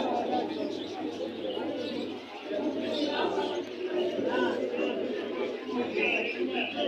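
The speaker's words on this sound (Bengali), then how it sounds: "অনেক সুন্দর সুন্দর কবুতর আছে গিরুবাজ।" Pigeons coo and chirp at the Jinjira pigeon market in Bangladesh, a soft steady murmur of birds under loud market chatter and nearby voices.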